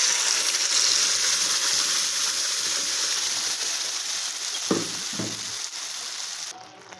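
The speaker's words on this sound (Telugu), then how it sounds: "అదే ప్యాన్లో ఇంకొక స్పూను నెయ్యి వేసేసుకొని ఈ బొప్పాయి గుజ్జుని ఇందులో వేసేద్దాం." Papaya pulp sizzles as it cooks in ghee in a pan, a steady close frying hiss with a couple of brief stirring knocks near the end.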